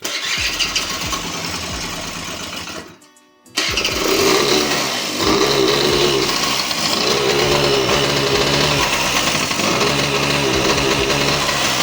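A Honda Tact AF51 scooter engine with an ignition spark fault runs roughly after starting, loud and close with an uneven, stumbling idle that cuts out briefly near the start before catching again.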